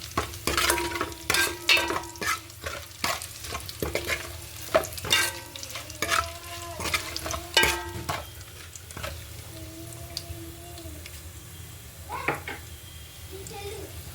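Spices crackle and sizzle in hot oil as a tempering for pappu charu, with repeated clinks and scrapes of a spoon stirring the pan, loud at first and then quieter.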